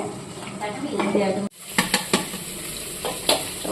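Spice masala sizzles in a pan while being stirred for paneer curry, a steady frying hiss broken by a brief pause and then several clattering utensil scrapes, close up, with a voice faintly underneath.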